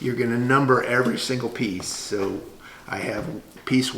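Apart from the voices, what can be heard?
None of the usual background noises is heard.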